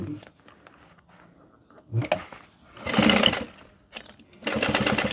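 A sewing machine stitches fabric near a D-ring on a bowler bag in two short loud runs, with handling noises and brief talk between them.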